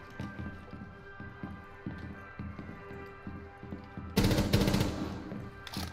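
Gunfire in Rainbow Six Siege: soft rhythmic thuds and footsteps, then a loud close burst of rapid automatic fire near the end.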